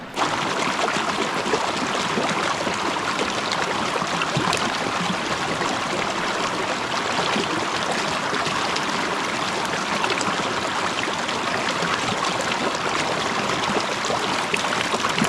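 A clear mountain creek rushes and burbles steadily over rocks, a constant broadband wash of flowing water close by, with no talking.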